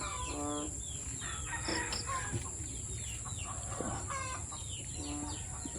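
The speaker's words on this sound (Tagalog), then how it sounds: "Papakain tayo ngayong umaga sa mga manok." Chickens cluck repeatedly and a rooster crows on a farm at morning feeding time, with several distinct calls over a steady background hum, fairly near and with no talking.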